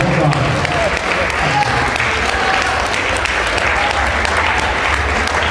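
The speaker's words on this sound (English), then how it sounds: "give her a big round of applause" Applause at a martial arts hall of fame induction ceremony, a thick, steady roll of clapping from an audience that holds at full strength throughout, with faint voices mixed in beneath it.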